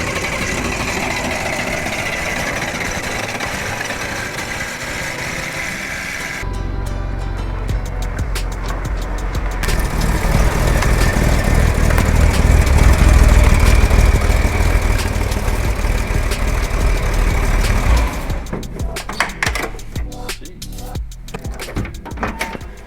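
A Chevrolet Corvair's rear-mounted engine runs steadily as the car pulls in, a continuous close mechanical hum that grows louder midway, then shifts to a lighter idle with intermittent clicks and rattles near the end.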